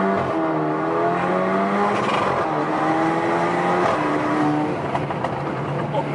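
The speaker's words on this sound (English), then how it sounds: "I can still hear the turbo pops." A tuned Alfa Romeo Giulia with a loud aftermarket exhaust runs steadily nearby, its engine drone rising and falling as it drives, with faint turbo pops scattered through the sound.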